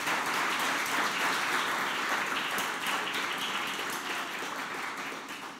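A church congregation applauds steadily, a dense wash of clapping that holds and then slowly tapers off.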